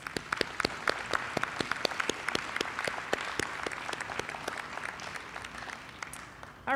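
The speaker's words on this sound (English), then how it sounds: "Let's give ourselves a round of applause." Students at a high school signing day clap together in a steady, dense round of applause, sharp hand claps ringing out close and continuous for several seconds with no talking over it.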